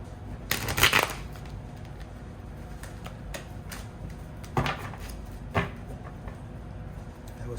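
Tarot cards shuffled in a few brief riffling bursts, the loudest near the start and two softer ones later, close and quiet with a faint room background and no talk.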